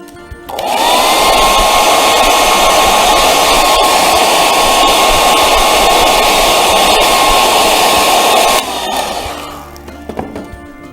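A hair dryer blows a loud, steady rush for about eight seconds to dry craft paint on a painted bear face, then cuts off, leaving faint handling noises.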